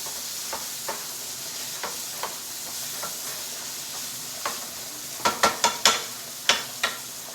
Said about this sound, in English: So you saute it down